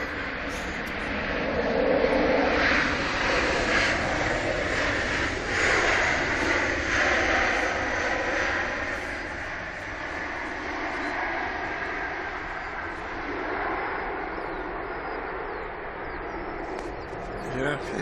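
A Ryanair passenger jet touches down on the runway at Manchester Airport, its engine roar steady and broad throughout, with voices chatting over it.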